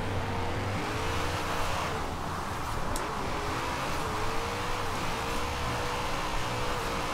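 A drift-built car with upgrades and no tune, sliding in Forza Horizon 4, its engine revving loudly and continuously with tire squeal and rising and falling pitch throughout.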